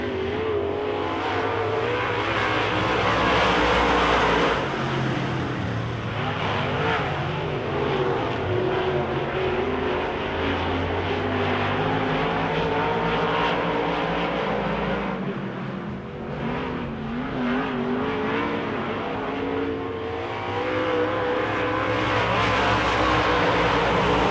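Pack of race cars roaring off at the start of a race, a loud continuous blend of engines revving and droning, rising and dipping slightly as the field passes, with no voices.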